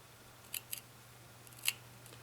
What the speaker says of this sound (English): And I'm pushing that tip of the scissors up against the backing fabric.